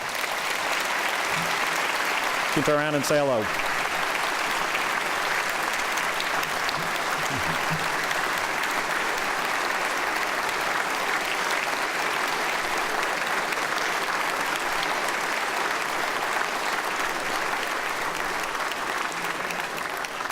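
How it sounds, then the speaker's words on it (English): Sustained audience applause fills a legislative chamber at the opening of the 2015 Louisiana session, steady and dense from start to finish, with a brief spoken phrase near the start. "I'd ask you to please recognize them with a round of applause."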